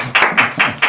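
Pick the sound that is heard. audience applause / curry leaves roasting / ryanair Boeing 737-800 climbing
audience applause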